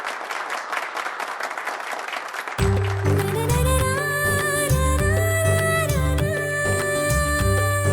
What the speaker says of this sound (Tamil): ஒரு பலத்த கைத்தட்டல கொடுத்தலாம் ரேகா மேம்க்கு